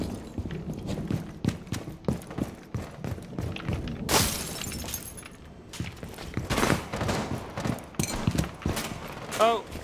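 Gunfire rattles through a Rainbow Six: Siege match on the Kanal map: rapid bursts of shots, a crashing shatter midway, and scattered impacts, with players' voices talking over the action.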